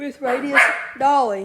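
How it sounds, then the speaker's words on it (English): A dog barks a few times at close range, loud and brief, overlapping a person's speech. "Sorry, that was my dog."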